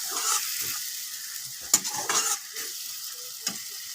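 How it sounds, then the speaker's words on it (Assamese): Spices stir-frying in a pan for an Assamese koldil (banana flower) dish, a soft steady sizzle with scraping stirs and a few sharper utensil knocks, close by and with no voices. "মই মছলাখিনি ভালকৈ ভাজি ল'ম।"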